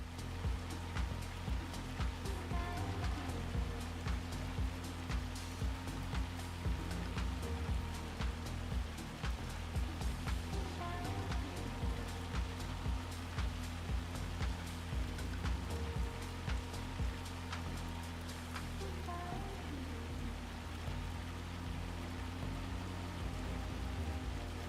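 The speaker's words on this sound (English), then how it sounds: "This is hail." Hail falling in a flight simulator game, a constant dense patter of hard drops striking surfaces with sharp ticks over a low steady rumble, without a break.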